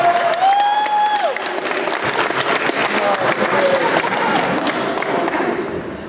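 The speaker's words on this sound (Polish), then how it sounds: "gorące brawa prosimy obecnych parę młodo" Loud crowd applause at a Polish wedding in Biała, with a few cheers and whoops rising over the clapping, dense and continuous throughout.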